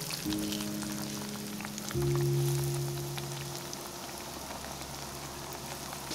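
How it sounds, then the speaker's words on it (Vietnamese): Battered eggplant pieces fry in a pan of hot oil, giving a steady close crackling sizzle over a faint low hum. "Khi dầu nóng lên thì mình cho cà vào chảo để chiên."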